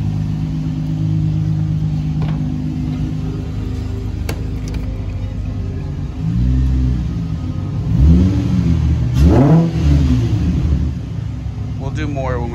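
Infiniti G35 with a loud aftermarket exhaust idling with a deep rumble, then blipped in a few short throttle revs that swell and fall back, with a person speaking briefly over the engine.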